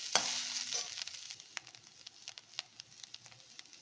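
Grated coconut with salt sautéing in a pan, a steady soft sizzle broken by sharp scraping and stirring clicks from a spatula, close and alone.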